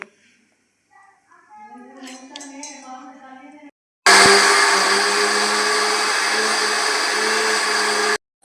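A kitchen mixer grinder whirs loudly and steadily for about four seconds, pulverising soaked mustard seeds, whole cumin and red lentils into a paste, after a stretch of nearby talking.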